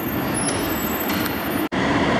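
Steady, loud rumble of an Ottawa O-Train Confederation Line light rail train nearby at a station, with a brief cut near the end.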